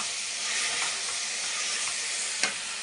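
Tomatoes for a simple tomato chutney roast in a pan with a steady close sizzle and occasional stirring scrapes, and one sharper clack of the spoon near the end.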